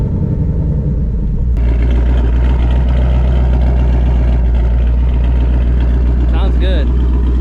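Cold startup of a 500 hp Ford Mustang GT with stock manifolds, cats removed and a Steeda H-pipe active exhaust: a sudden loud burst settling into a steady, deep idle rumble up close, with a brief higher whine near the end.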